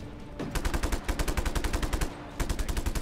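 Rapid gunfire bursts in Just Cause 3, a sniper firing repeatedly in fast, evenly spaced loud cracks, pausing briefly and then resuming another volley near the end.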